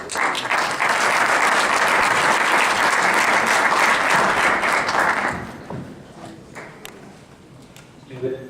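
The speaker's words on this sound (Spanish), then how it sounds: "Reiteremos nuevamente su presencia con un aplauso." An audience at a Catholic academic event applauds loudly and steadily for about five seconds, then the clapping fades into a few scattered claps and room noise.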